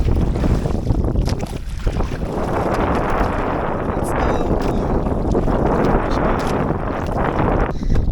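Strong wind roars steadily across the microphone on the Sulu Sea, with a boat's hum and splashing water underneath; a voice briefly speaks.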